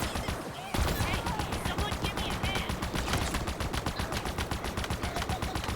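Rapid automatic gunfire in Halo Infinite rattles in a fast, steady stream of close, loud shots. It starts after a short quieter lead-in and keeps going almost without pause to the end.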